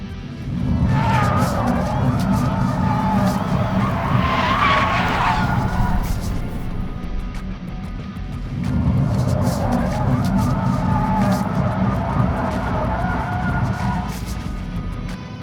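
A Hyundai Ioniq 5 N electric car drifting, its tires skidding and squealing in two long sustained bursts with a brief lull between, loud and close throughout.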